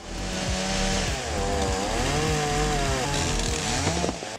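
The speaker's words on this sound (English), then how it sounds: "the style MS-661 sets the standard for excellence in chainsaw technology" A Stihl MS-661 chainsaw cutting wood, its engine loud and close, pitch rising and falling as the chain bites into the timber and eases off, running continuously without voices.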